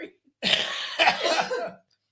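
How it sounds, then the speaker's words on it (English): A man coughs in two harsh, close bursts, the second slightly drawn out, then quiet follows. "Why am I coughing?"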